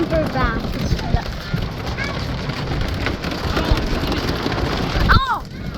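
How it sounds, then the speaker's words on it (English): Hail and rain fall in wind, a busy patter of drops hitting surfaces with gusty noise, while voices speak over it. "It's hailing. It's rainy, it's windy, and it's cloudy."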